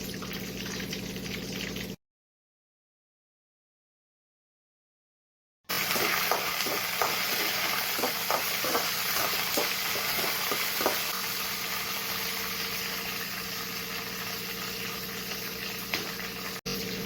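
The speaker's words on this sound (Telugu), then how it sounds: "పచ్చిమిరపకాయలు, పల్లీలు వేయించుకుంటాము" Green chillies and peanuts fry and sizzle in a pan, a steady crackling hiss with occasional stirring scrapes, close and continuous after a brief silent gap near the start.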